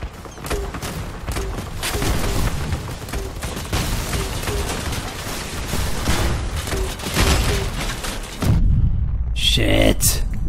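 Vehicle gunfire in the combat game Crossout, rapid bursts of shots and booms over mechanical engine noise, with someone talking over the action.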